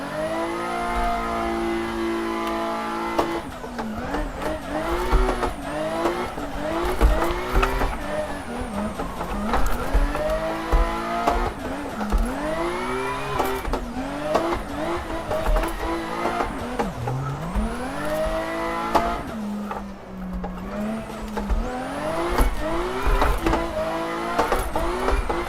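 A 400HP Toyota JZX90 Mark II in the Assetto Corsa racing game, its engine revving up and down through the gears with repeated rising and falling whines, loud and continuous, with tire noise.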